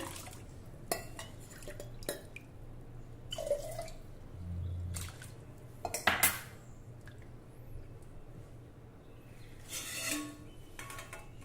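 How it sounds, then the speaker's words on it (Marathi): Water being poured into soaked cracked wheat in a home kitchen for a traditional sweet kheer. Scattered drips and small splashes come through, with short bursts of pouring, close and fairly quiet. "आता यामध्ये आपल्याला एक वाटी गव्हासाठी बरोबर अडीच वाट्या पाणी घालायचं आहे"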